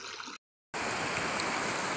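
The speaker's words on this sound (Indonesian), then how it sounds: "Jadi airnya mengalir kembali ke sungai kecil ini." Floodwater flowing back into a small river after a recent flood, a steady broadband rushing that cuts out briefly and then returns just as loud, with no voices.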